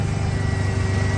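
A restored Ford Bronco's engine idles smoothly after its timing is set, giving a close, constant low-pitched rumble with an even pulse and no talk over it.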